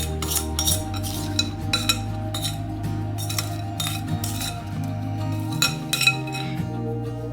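Granola spread across a baking pan with a utensil produces repeated metallic scrapes and clinks, close and fairly loud over a steady humming background.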